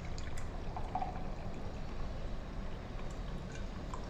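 A boiled herbal remedy of plant roots simmered down in water is strained and poured, giving a steady, close liquid splashing and trickling that runs unbroken for about four seconds with no voices.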